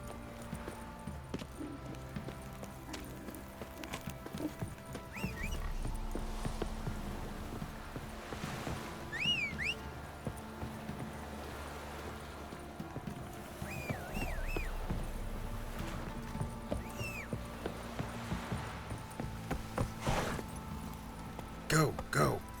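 A horse's hooves clip-clop in The Witcher 3 on PS5, a steady trotting rhythm running beneath game music and someone talking.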